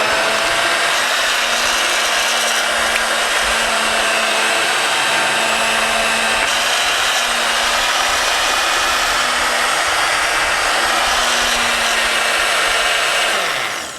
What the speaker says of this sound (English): now I'm gonna blend this